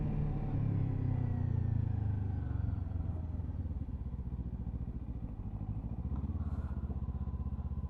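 Kawasaki Ninja 7 Hybrid motorcycle engine droning steadily while riding, a loud continuous low rumble with a slight rise early on, no clutch engaged, rolling along alone without talk.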